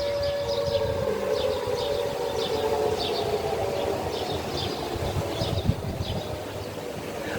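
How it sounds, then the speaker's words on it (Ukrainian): A long, steady wailing air raid siren drones under outdoor noise in Kyiv, Ukraine, with birds chirping faintly in the background. "чую лунає повітряна тривога"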